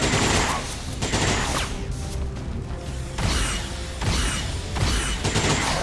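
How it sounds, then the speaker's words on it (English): Heavy gunfire in the XCOM video game comes as dense, loud bursts of automatic fire in repeated volleys, separated by short lulls with mechanical clatter; no speech. "he gets a counterattack, which is... Heavy fire!"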